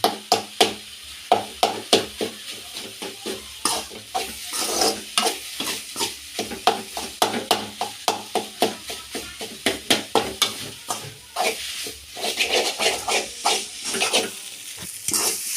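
Catfish puttu sizzles in a frying pan as it is stirred with masala, a spatula scraping and tapping in a quick steady rhythm over continuous frying hiss, close and fairly loud.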